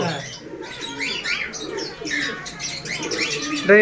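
White Danish pigeons coo softly and repeatedly among a flock in a loft, with chirps and light wing sounds mixed in, while people talk nearby.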